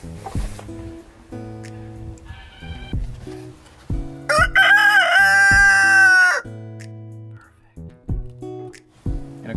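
An Ameraucana and Brabanter cross rooster crows once, loud and close, a long drawn-out call rising over quieter background sounds and faint movement.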